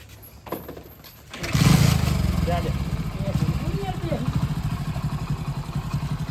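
A motorcycle engine catches after a brief start-up and settles into a loud, throbbing idle and revving close by, while a man calls out briefly over it.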